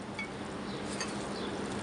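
Soft, steady squelching of chicken ball mixture being worked by hand, with a faint oily sizzle-like hiss running evenly throughout at close range.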